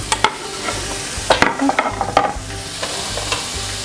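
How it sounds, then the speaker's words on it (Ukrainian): Small pieces of pork fat sizzle and crackle in a hot, ungreased small pan, with occasional scraping stirs and sharp pops, no voices. "Поки шкварки смажаться"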